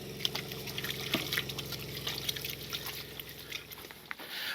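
Water running steadily from a campsite sink during a rainstorm while truck camping, a soft continuous trickle and splash with faint drips, fairly quiet and close.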